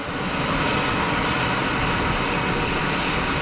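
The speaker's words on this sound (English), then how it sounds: "Mike James calling the 777-300 pushing back" A Boeing 777-300 pushes back at Geneva Airport, its engines producing a steady, loud broadband roar with a low rumble, heard from nearby and holding constant.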